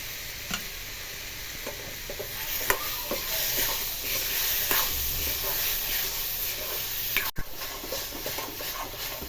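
Dry fruit being stirred into red date kharek pak in a pan, a steady close scraping and sizzling hiss running throughout with a sharp clack near the end.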